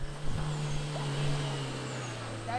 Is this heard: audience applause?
no